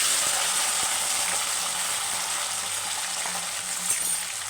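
Curry leaves and garlic frying in a hot pan for a Telugu garlic curry, a steady broadband sizzle that holds throughout at fairly even strength, with occasional faint clicks of utensils underneath.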